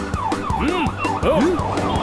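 An ambulance siren wails through heavy street traffic, close and loud, its rising and falling warble repeating quickly over about two seconds amid road noise.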